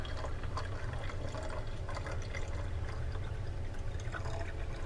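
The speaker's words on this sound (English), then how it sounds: "letting water come into this bottle." Water fills a bottle in a steady, soft stream, a continuous gurgling trickle with faint bubbling, low in level and uninterrupted, with no talk.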